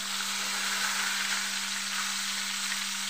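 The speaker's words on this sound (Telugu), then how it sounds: "ఆ తర్వాత బాండీ పెట్టుకొని కొంచెం ఆయిల్ వేసుకొని ఆయిల్ హీట్ అయ్యాక ఈ విధంగా వంకాయలని అందులో వేసుకోవాలి" Stuffed eggplants frying in hot oil in a pan, giving a steady, dense sizzle that stays loud and unbroken throughout, with a faint low hum beneath and no voices.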